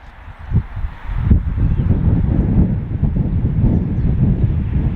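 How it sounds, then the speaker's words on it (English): West wind at an outdoor fishing spot, buffeting the microphone as a steady low rumbling roar that builds after a brief quieter start and stays loud and close, with no talk. "And that wind's not too cold as it's coming from the west"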